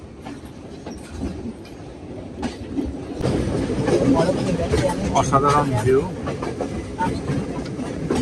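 Train running on rails from Nuwara Eliya to Ella in heavy rain, a steady rumble and clatter that grows louder midway, with someone speaking over it.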